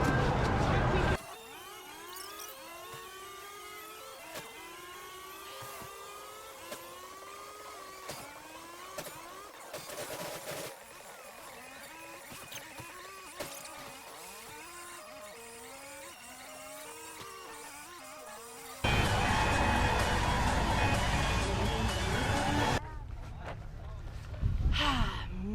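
A car driving in Grand Theft Auto V, with a steady engine hum and repeated rising gear-shift sweeps. Louder, brighter noise bursts come near the end.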